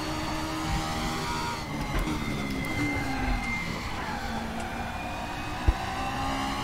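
A race car engine in the RaceRoom sim, a Hillclimb Icon car at Bathurst, drones steadily with a held, slowly shifting pitch the whole time, loud and close, with no voices.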